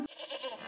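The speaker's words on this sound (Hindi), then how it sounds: "ये बकरी की आवाज कहाँ से आ रही है?" A single goat bleat, faint and short, a wavering nasal cry heard alone after a brief click.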